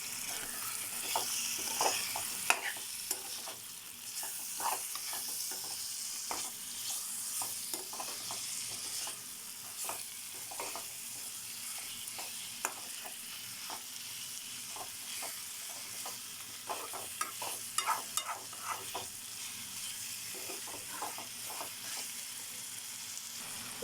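Quarter kilo of mutton seasoned with salt and chilli fries in a pan for mutton drumstick curry, a soft, low sizzle with frequent scraping and clattering stirs scattered across the stretch, no talking.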